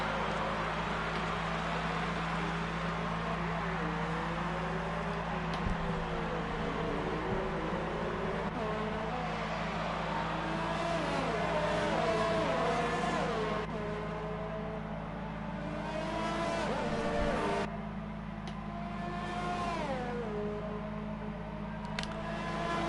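Formula 1 cars race in a PS4 game at the Mexico Grand Prix, their engines whining and rising and falling steadily as gears shift, with several cars overlapping throughout.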